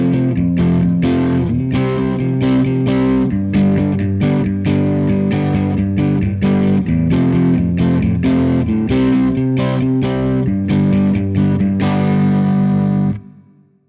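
A distorted electric guitar in standard tuning plays the chugging rhythm part of a song, steady strummed chords loud and close without voices, ending on a ringing chord that cuts off.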